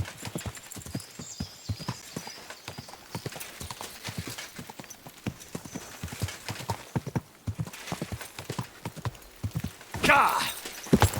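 A horse's hooves clip-clop in a steady rhythm of distinct strikes in the medieval game Kingdom Come: Deliverance 2, ending with a loud neigh and snort, while someone speaks briefly over it.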